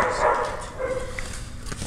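Puppies yap and whimper close by in a basket, short high-pitched yips and a thin whine over a soft indoor background.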